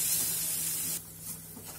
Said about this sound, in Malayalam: ഉള്ളി പെട്ടെന്ന് വഴഞ്ഞ് കിട്ടാൻ വേണ്ടിയിട്ട് നമ്മൾ ലേശം ഉപ്പ്, ഉപ്പിട്ട് നന്നായി വഴറ്റുക ഒരു ബ്രൗൺ കളർ ആവുന്നത് വരെ